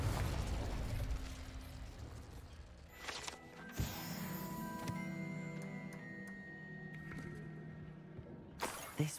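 Fire and blasting spells, Incendio then Confringo, are cast in the wizarding game Hogwarts Legacy. A sudden burst is followed by a sustained ringing, crackling hum and scattered ticking, ending in a final sharp burst.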